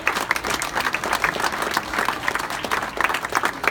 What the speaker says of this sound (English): So please give them a round of applause for coming out today.